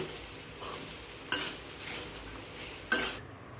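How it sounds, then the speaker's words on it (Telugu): Rice being stirred and mixed in a hot pan for paneer fried rice, a steady soft sizzling scrape with two sharper clanks of the utensil against the pan, close and moderately quiet with no talking. "మన రైస్ని మిక్స్ చేసుకోవాలి"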